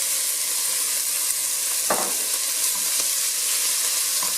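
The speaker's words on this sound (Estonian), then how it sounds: "kuumutan natukene hakkliha" Minced meat frying in a little oil in a pot, a steady bright sizzle throughout with a few louder crackles and stirring scrapes, close and alone.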